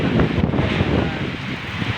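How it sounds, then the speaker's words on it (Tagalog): Strong typhoon wind roars outdoors with rain, a dense, continuous buffeting rush that batters the microphone throughout. "Grabe ang lakas ng hangin at saka ulan"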